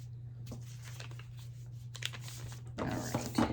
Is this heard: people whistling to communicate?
no